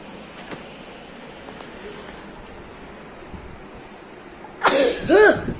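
After a stretch of quiet rustling, a single loud, voiced sneeze bursts out close by near the end.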